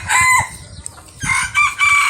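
A dark Pradu-colour rooster crowing close and loud, two drawn-out cock-a-doodle-doo calls separated by a brief pause, with faint clucking around it.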